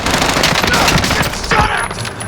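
Shotgun fire in a shooter video game comes as a dense, loud burst of overlapping blasts across the whole stretch, with a voice faintly mixed in.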